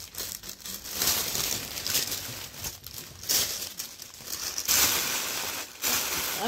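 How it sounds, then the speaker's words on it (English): Tissue paper crinkles and rustles in irregular bursts, close up, with brief pauses between handfuls being pressed and shifted into a gift bag. "And then I'll put tissue paper on here."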